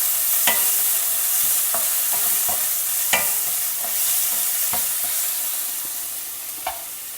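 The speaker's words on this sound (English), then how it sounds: "Stir fry everything well together." Chopped onion, green chilli and curry leaves stir-fried together in a pan, a continuous sizzle broken by repeated sharp scrapes and knocks of a spatula, close and fairly loud, gradually easing toward the end.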